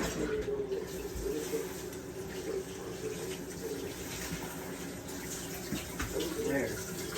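Tap water runs steadily into a kitchen sink as boiled eggs are drained and covered with cool water, a continuous close splashing hiss with faint background voices.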